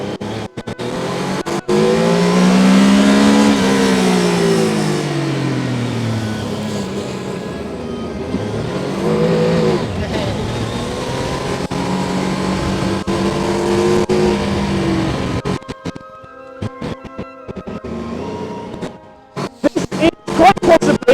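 A Formula Student race car engine revs and accelerates loudly, its pitch sweeping up and down through gear changes over a long run before cutting to rattles and clicks near the end.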